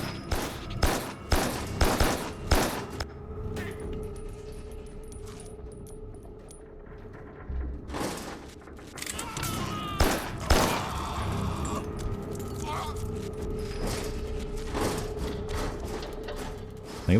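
Bursts of gunfire from armed humans in the video game Carrion, with rapid cracking shots, a quieter lull with a faint high tone midway, then more volleys and impacts among game noise.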